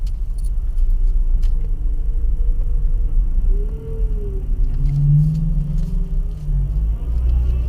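A car driven by a first-time learner driver rumbles steadily through a curve, the engine note loud and close, rising and easing slightly as it goes.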